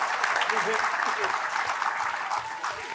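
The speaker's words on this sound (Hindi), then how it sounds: "जोरदार तालियां हो" Dense, steady applause from an audience at a Hindi poetry gathering where poets take the stage, a continuous wash of many hands clapping at full volume for the whole stretch.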